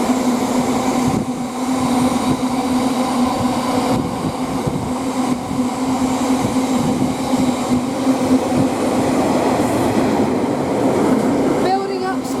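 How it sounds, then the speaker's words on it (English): A GBRF Class 66 diesel hauls an intermodal freight train from London Gateway to Hams Hall past Rugby on the West Coast Main Line, a loud, steady rumble with a constant engine drone and wheel noise throughout. "we've got a GBRF intermodal. From London Gateway to Hams Hall GBRF."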